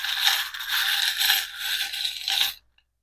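Small metal charms cast onto a surface for a relationships reading, heard as a dense jingling and clattering that rattles on for about two and a half seconds, close and fairly loud, then cuts off into silence.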